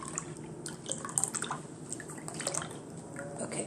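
Low-fat milk pouring into a measuring cup for saleeg rice porridge, a steady close liquid trickle with small splashy drips, alone without talk.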